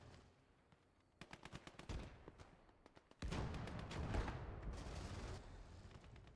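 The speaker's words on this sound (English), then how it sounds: "A lot of guns going off." Many guns fire at once in a World War II battle in the video game Gates of Hell: Ostfront: scattered rapid bursts first, then a loud, dense, continuous barrage of overlapping shots and booms with no voices.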